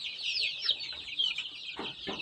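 A native hen clucks repeatedly, with soft, close, chattering calls, while eating mustard greens; a few faint pecking sounds come through near the end.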